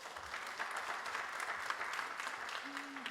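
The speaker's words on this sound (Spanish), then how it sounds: "denle un fuerte aplauso pues a este grupo" A classroom group claps together in sustained, steady applause, dense and even throughout, with a faint brief tone near the end.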